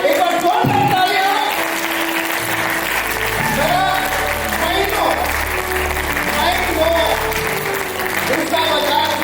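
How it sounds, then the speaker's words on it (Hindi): Loud audience applause for a reading champion at an awards night, a thick roar of clapping over music, with sustained tones and a voice weaving through the mix the whole way. "एक बार जोरदार तालियां।"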